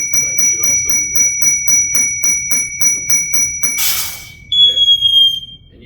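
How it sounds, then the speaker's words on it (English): An SCBA low-air alarm bell rings in rapid, steady repetition alongside a high continuous tone. It stops after a burst of hissing air, then a different electronic tone sounds, loud and close. "Your bell should activate, and it should turn red, and the pack light should also be red."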